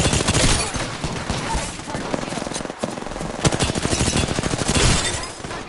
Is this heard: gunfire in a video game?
yes